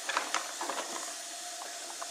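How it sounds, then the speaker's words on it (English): A broad, steady hiss of risotto frying on a small cast iron griddle fills the clip, with faint clicks and small pops scattered through it. "it's already sizzling in there."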